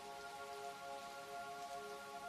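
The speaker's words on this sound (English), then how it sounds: "listening to the rain" Rain falls steadily as a soft, even hiss, quiet and continuous, with a faint tonal hum running underneath and no voices.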